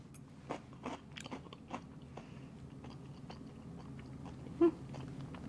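Crunchy buffalo-seasoned crouton crumble from a buffalo chicken salad being bitten and chewed, a series of close, crisp crunches in irregular rhythm with quieter chewing between, no talking.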